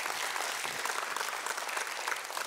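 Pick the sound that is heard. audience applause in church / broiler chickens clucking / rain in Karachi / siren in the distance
audience applause in church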